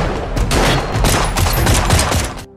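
Rapid gunfire in a film scene where a man is shot by gang members, a dense burst of overlapping shots and impacts running loud and continuous for over two seconds before cutting off abruptly.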